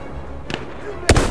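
Artillery shells in Battlefield 1 boom in two sharp blasts, a softer one followed by a louder, nearer crack, over a low rumbling battlefield hum.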